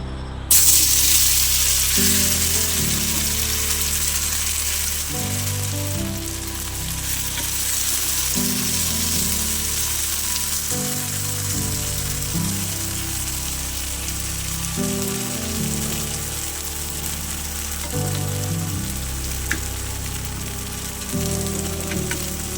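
Slices of yam fry in groundnut oil in a pan, giving a steady, close sizzle with a bubbling rain-like hiss that holds evenly throughout, while music plays underneath.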